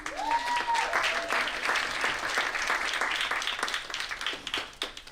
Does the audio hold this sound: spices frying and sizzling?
no